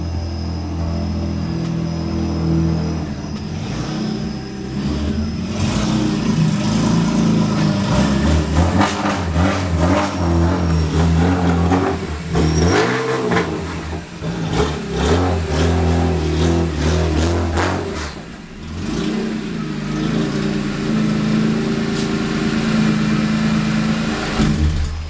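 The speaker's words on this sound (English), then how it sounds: "here's a video of my car driving in, as every video has" BMW M3 GTR pulling in, its engine idling with a low rumble and then revving in several surges that rise and fall, fairly close and loud, with no talking.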